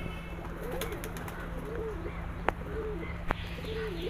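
Pigeons in a loft coo in soft repeated low phrases, a few seconds apart, over steady background hum with a couple of sharp clicks.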